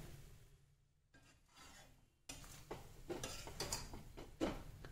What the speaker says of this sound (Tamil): அந்த அடி ஒட்டுற சத்தம் கேட்குது